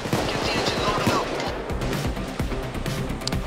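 Rapid automatic gunfire in the video game Payday 2 during the Big Oil heist, dense bursts of shots crackling continuously and loudly with no clear pauses.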